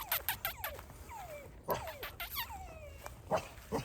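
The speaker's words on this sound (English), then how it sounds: "They have dogs." Several dogs bark and yip in quick, close bursts, with high whining yelps and whimpers between the louder barks.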